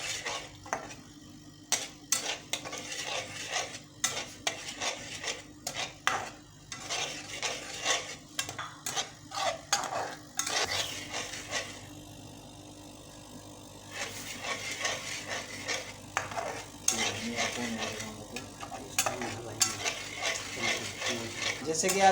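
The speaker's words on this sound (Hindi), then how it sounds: "जैसे कि आप इसी तरह इसको चमचा चलाएं" A spoon stirs mutton white karahi in a pot, making repeated sharp scrapes and clinks in irregular bursts, with quieter pauses and a low background hum.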